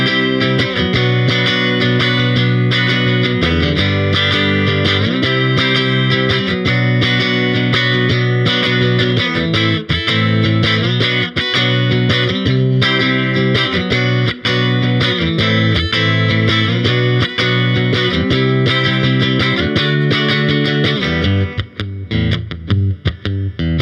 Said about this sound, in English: we are back on our bridge pickup now. Settings are still clean, right around 5 on the volume on the Princeton Reverb.